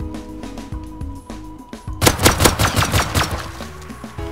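Rapid gunfire in the survival game Rust as a player shoots a bear, a burst of sharp repeated shots starting abruptly and continuing loud for a couple of seconds after a quieter stretch of game sound.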